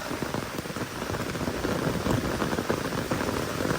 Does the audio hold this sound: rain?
yes